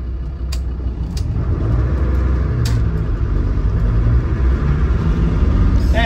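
A van passes close by on a road, a broad steady engine rumble that holds loud throughout, with a few faint clicks and knocks over it.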